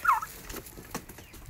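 Three-month-old turkeys gobble and cluck in a short, fairly faint burst of calls, close by and without talk.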